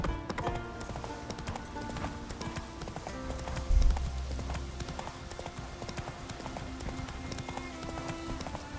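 The horse Roach plods along with steady clip-clopping hooves in The Witcher 3, a continuous rhythmic patter over game music, with no talk.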